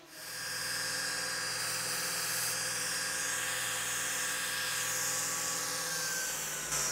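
A hardened knife blade ground against a 220 grit sanding belt on a belt grinder gives a steady, continuous whirring hiss with a low motor hum underneath, running unbroken at even loudness with no talking.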